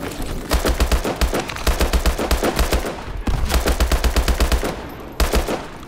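Sustained automatic gunfire in Call of Duty: Advanced Warfare, loud and close, with rapid bursts of shots broken by short pauses and one final burst, no talk over it.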